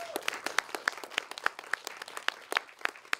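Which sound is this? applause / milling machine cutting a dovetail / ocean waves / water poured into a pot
applause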